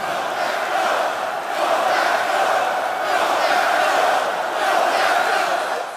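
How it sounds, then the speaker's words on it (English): A huge stadium crowd at the 2007 New York Giants Super Bowl XLII game roars in a frenzy, a continuous loud wall of cheering and shouting that swells in waves. "The crowd was in a frenzy."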